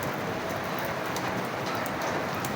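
Heavy rain pours down steadily during house siding repair work, a dense, loud, unbroken hiss of drops hitting surfaces, with no voices.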